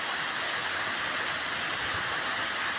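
Steady rain pours during a Kalbaishakhi storm, a continuous even hiss of drops with no break, moderately loud and with no voices.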